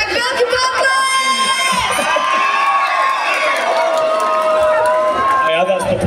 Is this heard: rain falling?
no